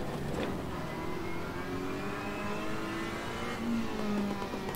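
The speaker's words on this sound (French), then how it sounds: "La Ferrari qui revient à nos trousses. La voiture qui glisse." A Ferrari 488 race car in the racing game Assetto Corsa Competizione, its engine droning and revving steadily as the car slides, loud and continuous with no talk.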